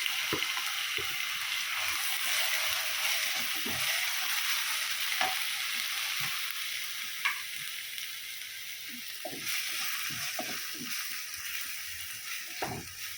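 Mushroom kalan frying in oil with chilli, coriander and pepper masala at a roadside stall, a soft steady sizzle with intermittent knocks and scrapes of stirring, close and without voices.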